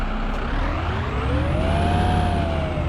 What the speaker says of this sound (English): let's restart the engine. I'll start it up on the outside this time.